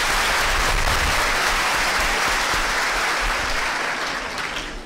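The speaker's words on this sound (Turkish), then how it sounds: "alkışlamak istiyorum." Loud, sustained applause from a large crowd at an academic panel, dense clapping that holds steady and then begins to taper off toward the end.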